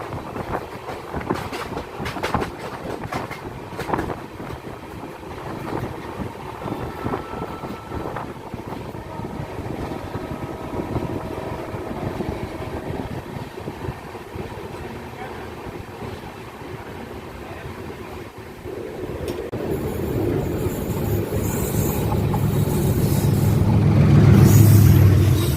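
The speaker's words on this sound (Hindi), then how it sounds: "यहाँ हमारी ट्रेन गोंडा जंक्शन पहुँच रही है" A train arriving at Gonda Junction on the Burhwal–Gonda line rumbles along steadily with wind buffeting the microphone, the noise building louder toward the end as it approaches the station.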